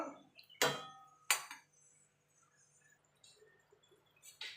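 A metal lid goes onto a cooking pot of papaya curry with two sharp clanks close by, then light scraping and a final clink over a quiet kitchen background.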